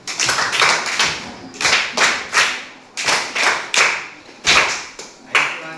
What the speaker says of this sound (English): A clap for this group.